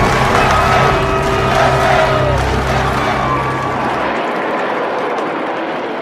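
An enormous crowd at a Fourth of July Independence Day event with a Blue Angels flyover, a loud dense roar of massed voices and cheering that stays strong, then thins and quiets slightly toward the end.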